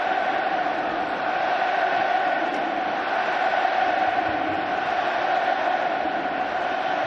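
A huge stadium crowd during a Champions League penalty shootout between Atlético and Inter gives off a continuous roaring din, steady and loud from start to finish with no clear commentary over it.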